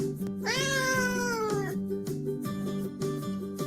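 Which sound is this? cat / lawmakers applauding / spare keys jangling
cat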